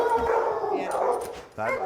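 A dog gives a short, close bark-howl with a whimpering edge, then a brief yip near the end, loud and alone.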